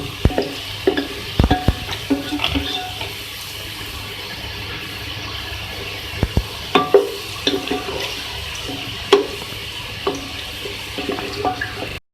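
Onions frying to golden brown, a steady sizzle with frequent stirring knocks and spoon clatter against the pan at irregular intervals, fairly loud and close.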